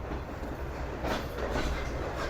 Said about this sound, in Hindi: हमारी ट्रेन प्लेटफॉर्म नंबर 2 से गुजर रही है सम्मा सट्टा से।